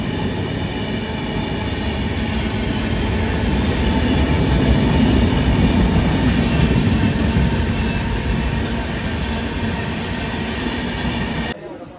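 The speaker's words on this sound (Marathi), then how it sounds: "आता दोन रेल्वे स्टेशनवर आहे आणि आता ट्रेनची वाट बघतोय" A train rumbles steadily and loudly at a railway station in Pune, with a broad low roar and faint rattling throughout, ending abruptly near the close.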